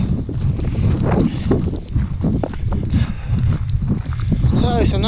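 Strong wind roars across the misty summit of Scafell Pike, England's highest mountain, a steady buffeting rush close on the microphone, with a voice talking over it.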